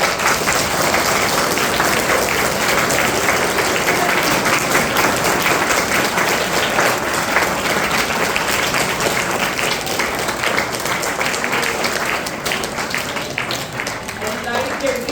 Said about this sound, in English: I think they deserve huge round of applause